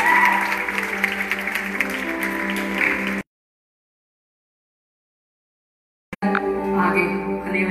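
Concert audience at a live show in the USA applauds for a tabla player, a dense roar of clapping over sustained musical tones, cut by a long dead gap before the sound resumes.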